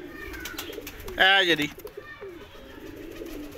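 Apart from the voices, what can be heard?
golden pigeons cooing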